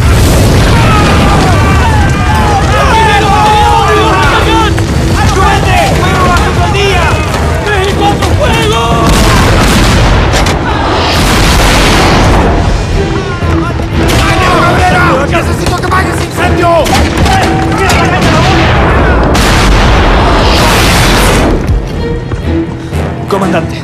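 Deep naval cannon booms thunder repeatedly amid a loud sea-battle din, with excited Spanish-speaking voices shouting over the continuous roar of gunfire.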